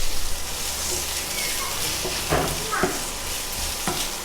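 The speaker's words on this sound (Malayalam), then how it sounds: "ഇനി ഇതിലേക്ക് സവോള ചേർത്ത് കൊടുക്കാം." Two medium onions, sliced lengthwise, sauté with liver in a pan for a peppery liver fry. A steady close hiss and sizzle runs throughout, with a few scraping stirs near the middle and no talking.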